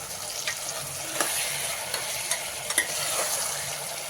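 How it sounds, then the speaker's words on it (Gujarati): Pav bhaji vegetables with tomato-onion tempering and ginger, chili and garlic paste sizzle in oil, with a steady frying hiss broken by light spoon clicks and scrapes as they are stirred close by. "તેલમાં હલાવી"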